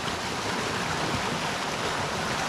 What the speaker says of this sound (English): So friends, this is the creek that I'm talking about.